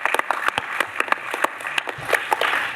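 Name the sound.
audience applause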